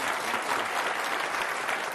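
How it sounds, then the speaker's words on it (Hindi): A studio audience at a live Hindi TV political debate on the Gujarat and MCD elections breaks into dense, continuous applause to welcome a guest, loud and even throughout. "तालियों के साथ स्वागत कीजिए।"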